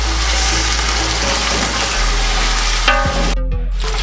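Boiled chicken fries with ginger garlic paste in a pot for yakhni pulao, a loud steady sizzle over a low hum, with a few clanks of a utensil near the end before the sound cuts sharply.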